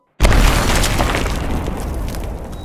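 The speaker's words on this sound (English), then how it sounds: "a small but very loud explosion occurred" A small cluster bomblet goes off as a sudden, very loud blast, followed by a dense, roaring wash of noise that fades slowly and stands alone.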